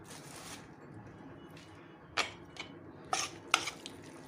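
A spoon stirs tahini into a herring salad in a dish, giving a few soft scrapes and clinks, quiet and close, with light background hiss.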